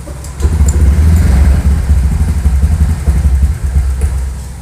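A motorcycle fitted with a Juken 5+ carburetor, started cold: a loud, close, uneven engine chug that runs roughly for a few seconds and fades as it dies out.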